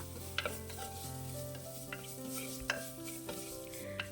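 Spices stirred in a hot pan over a low flame, with a soft continuous sizzle and repeated metallic clinks and scrapes of a spoon against the pan, close up and without talk.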